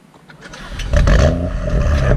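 A tuned BMW M135i with a Stage 2+ tune, downpipe and intercooler pulls away, its engine rising from a low idle into a loud, close, rumbling acceleration that holds strong to the end.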